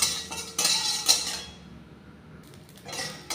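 Bay leaf and whole spices stirred and dry-fried in a pan for a rohu fish curry, with a few bright bursts of a utensil scraping and clinking against the metal, then a quieter gap before more stirring.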